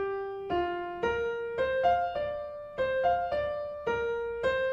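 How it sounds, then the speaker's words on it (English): The Promenade melody from Mussorgsky's Pictures at an Exhibition is played as a quiet, clear solo line of separate sustained notes with a stately, uneven-metered rhythm. "So, the promenade melody in question sounds like this."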